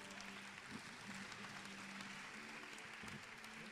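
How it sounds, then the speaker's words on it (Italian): An audience at a school music recital applauds the teachers with a steady, fairly quiet wash of clapping that carries on throughout, joined by a faint tonal hum or voice underneath. "ci fate un bel applauso"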